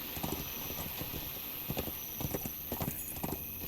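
Hooves of a horse clip-clop in steady, rhythmic groups in the Lord of the Rings Online video game, moderately loud over a constant background hum of game ambience.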